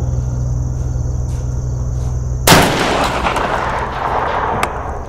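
A Franchi SPAS-12 pump-action shotgun fires a single loud, close blast that cuts sharply through a steady background hum, followed by a decaying echo.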